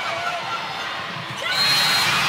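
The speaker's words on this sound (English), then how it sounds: "a big reaction from the partisan Nebraska crowd in Iowa" A partisan Nebraska crowd in an Iowa arena roars and cheers at a women's college volleyball match, a broad swelling wall of voices that grows louder toward the end.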